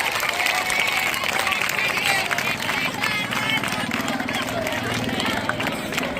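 An audience claps throughout at a school prize distribution ceremony, with dense, steady applause close by and a little crowd murmur underneath.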